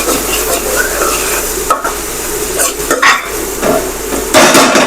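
Onions mixed with ridged gourd in a pan, loud and close, with a continuous sizzle and irregular spoon scrapes and clanks against the metal, and no talk.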